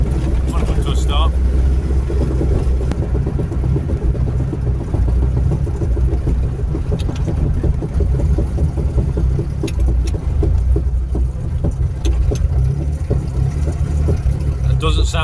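A Reliant Reaper car drives along with a worn, noisy bearing, giving a continuous loud low rumble and drone from inside the cabin, with a person speaking over it.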